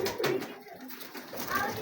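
Teddy pigeon chicks, a brood of around 25 to 30, coo softly in short, close, overlapping calls across a brief moment.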